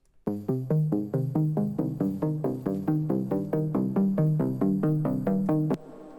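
Synth arpeggiator set to an eighth-note rate, about twenty evenly spaced plucked notes stepping through a melody for nearly six seconds, loud and close with no talk, then stopping abruptly.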